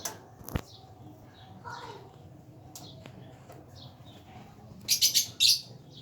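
Birds chirp outdoors around midday, a few thin calls scattered through the quiet, then a louder burst of quick bright tweets near the end.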